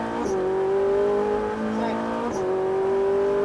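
A Ferrari 458 Italia accelerating on a racing circuit, its engine note climbing steadily, dropping briefly at a gear shift, then rising again, loud and close.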